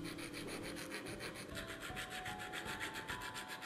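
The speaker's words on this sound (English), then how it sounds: "a small file." A small hand file rasps back and forth along the edges of the hole in an old wrench clamped in a vise, steady rhythmic scraping strokes heard close up with no voices.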